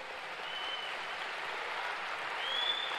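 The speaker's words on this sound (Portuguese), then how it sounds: "Se você vai aplaudir ao Senhor, aplauda mesmo." A standing church congregation applauds the Lord in a smooth, continuous wash of clapping that fills the hall and holds steady throughout, with no break or pause.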